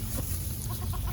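Chickens in a sustainable garden, a few short soft clucks over steady low outdoor rumble, fairly distant and faint.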